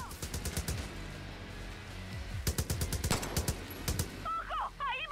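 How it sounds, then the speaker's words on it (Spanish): Gunfire in the Far Cry New Dawn video game: rapid bursts of automatic shots crackle in quick clusters, fairly loud, with brief gaps between volleys and a few odd electronic chirps near the end. "¿Qué mierda me está disparando?"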